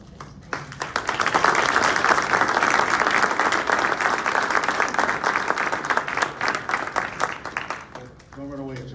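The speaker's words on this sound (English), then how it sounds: "Let's give another round of applause" Audience at a congressional candidate forum breaking into applause, swelling quickly to a full, sustained round of clapping that tapers off near the end as a voice begins to speak.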